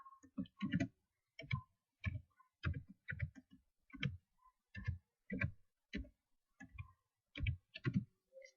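A computer mouse clicks through a software exercise, a quiet but crisp run of separate clicks at a fairly regular pace, some landing in quick pairs, with silence between them.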